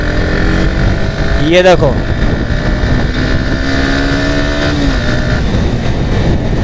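An NS 160 motorcycle engine pulls hard under acceleration, its rising whine sitting under strong wind rush at close range, with someone speaking briefly over it.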